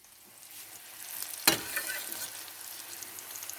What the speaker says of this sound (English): add this to the onions and the tomato, and I'm just sauteing them